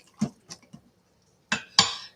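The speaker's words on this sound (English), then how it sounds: "Stirring." A spoon stirs and scrapes against a pot with the ingredients for an Irish stew, giving a few light clinks followed by two louder, longer scrapes close by.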